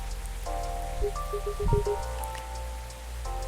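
Steady rain ambience from the video game Coffee Talk 2, a soft continuous patter with faint drips under calm background music tones, no voices.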